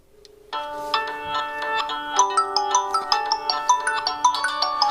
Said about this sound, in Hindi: मैंने इस फोन के मोबाइल नंबर से कॉल किया और दोनों पर जो है कॉल आ रही है